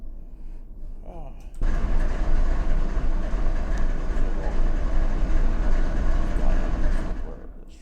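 A train runs in Run 8 Train Simulator V2 near Barstow, a loud steady rumble and clatter of rolling wagons that starts abruptly and continues throughout, with a brief voice just before it begins.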